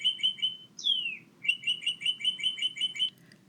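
Birds chirping nearby: a fast run of bright repeated trilled notes, a downward swooping call, then another long rapid series, clear over a quiet low rumble.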